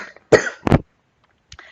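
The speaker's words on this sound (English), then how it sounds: "Just stimulated my cough reflex through my larynx." A man gives two sharp, close coughs in quick succession in a quiet room, followed by silence and a faint catch of breath.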